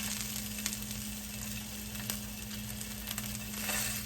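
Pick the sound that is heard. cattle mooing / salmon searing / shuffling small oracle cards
salmon searing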